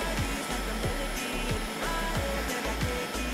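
Dyson Airwrap hair styler running on its cool-down setting gives a loud, steady blowing whir. A low hum pulses in a regular rhythm underneath, and no one speaks.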